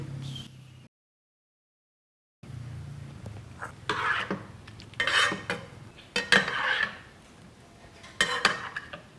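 Cooked vegetables stirred in a pan with oyster sauce and a pinch of salt, the utensil clanking and scraping in irregular bursts after a short silent pause, close and fairly loud.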